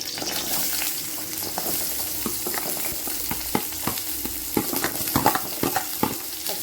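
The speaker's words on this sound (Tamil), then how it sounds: "ஆயில் காஞ்சிருச்சு இப்போ வெங்காயத்தை போட்டுக்கேன்" Onions frying in hot oil in a pan while preparing murthappa, a steady close sizzle broken by sharp utensil clicks and scrapes that grow more frequent toward the end, with no voices.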